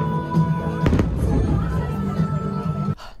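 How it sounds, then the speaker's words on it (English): Magic Kingdom fireworks at Disney World heard from a high lounge at the Contemporary resort, a sharp burst followed by rumbling crackle over crowd murmur, ending abruptly. "Seeing the fireworks from up here is absolutely insane."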